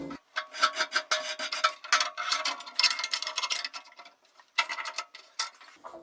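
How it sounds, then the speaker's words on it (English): A wire brush scrubs oxide off aluminum before MIG welding, rapid rasping strokes in bursts with a short pause before a final scrub, close and fairly quiet. "the easiest way to do that is just mechanically remove it by using one of these brushes"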